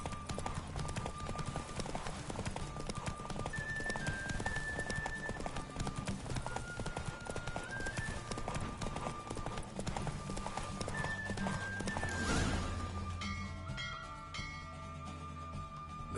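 Rapid hoofbeats of Roach, Geralt's horse, galloping through a race in The Witcher 3, steady and close under game music, with a brief swell of noise near the end as the pace eases.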